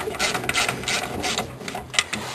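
Bolts on a car part being snugged down with a hand ratchet wrench, no torque wrench: a run of quick, close mechanical clicks in uneven bursts, fairly loud with a short pause partway through.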